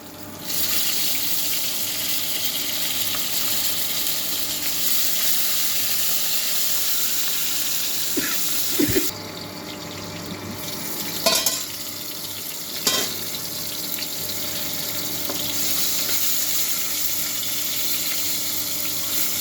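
Green chilies and tomatoes fry in oil in a pan, producing a loud, constant close sizzle that runs nearly unbroken, with a few brief clinks and scrapes of stirring along the way and no speech.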